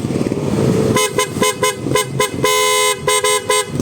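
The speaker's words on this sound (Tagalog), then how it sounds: "So ayan yung PIA horn natin." An aftermarket PIA horn on a Honda ADV160 scooter honks loudly and close in a series of short toots and a few longer blasts over a running engine.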